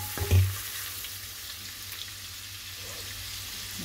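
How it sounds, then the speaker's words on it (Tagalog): Garlic sautéing in a hot pan for buttered shrimp gives a steady, close sizzle and crackle throughout, with a brief louder stir or clatter near the start. "Ibanbanan muna natin ng konti yung garlic."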